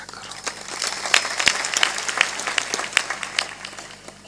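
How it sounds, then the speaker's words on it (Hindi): A Hindi spiritual discourse audience claps in a large crowd, dense crackling applause of many hands spread across the whole clip with scattered sharper claps, fairly loud and steady with no voice on top. "थोड़ा जोर से ताली बजा दिया करो"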